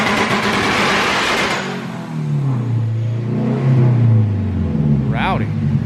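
A tuned street car's engine revving hard against a two-step launch limiter, loud and close with a sustained roar that drops and swells, then a sharp rising whine near the end.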